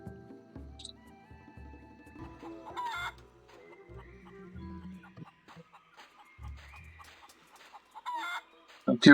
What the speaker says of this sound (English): plenty of chickens, but